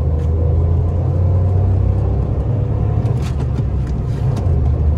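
Maruti Celerio CNG small hatchback accelerating through the gears, a steady loud low engine rumble and road drone close inside the cabin, continuous with no speech.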